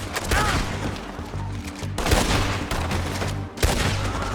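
Rapid gunfire from the video game Red Dead Redemption 2, a dense, continuous burst of overlapping shots over a low rumbling background, steady throughout with brief dips.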